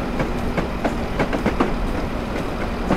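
A train runs steadily in Train Simulator 2018 on the North Wales Coast line from Llandudno to Crewe, with a continuous loud rumble and a regular clickety-clack of wheels over the rail joints.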